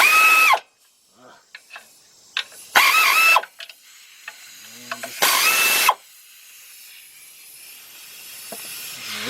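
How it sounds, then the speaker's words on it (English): Air ratchet spinning a 10 mm deep socket on a 3/8 drive to remove a shield near the front catalytic converter of a 2003 Nissan Maxima 3.5; three loud, close whirring bursts separated by quiet gaps and small clanks. "Hook up my air ratchet."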